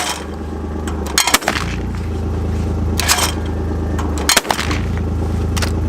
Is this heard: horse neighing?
no